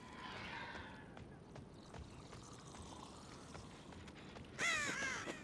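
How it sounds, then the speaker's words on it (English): A crow in the Dead by Daylight video game gives harsh caws followed by a louder burst of wingbeats near the end as it flies off, set over a steady low ambient rumble. "This crow just flew away, by the way."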